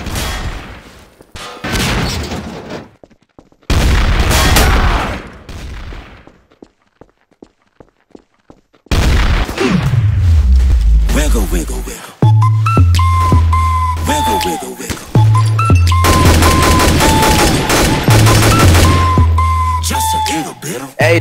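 Rapid video game gunfire crackles in bursts during a Trouble in Terrorist Town round, with footsteps and bangs between, while players talk throughout.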